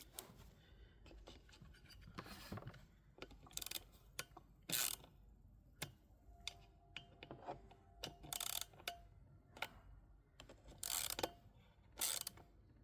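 Loose parts on a grass trimmer housing being tightened, a series of close, sharp ratcheting clicks and scraping mechanical rubs in uneven bursts against a quiet background, no speech.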